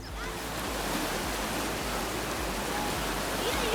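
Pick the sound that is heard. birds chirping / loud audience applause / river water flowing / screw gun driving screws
river water flowing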